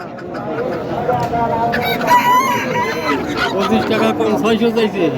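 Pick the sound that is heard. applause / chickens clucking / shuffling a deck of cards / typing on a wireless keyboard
chickens clucking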